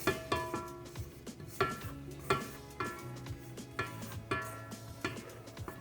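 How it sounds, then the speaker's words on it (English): Chocolate chip cookie batter being stirred in a bowl, with repeated scraping and knocking of the utensil against the bowl in a steady rhythm, close and fairly quiet, with no talking. "I'm just gonna lift this up so I can give it a little stir before I add my flour"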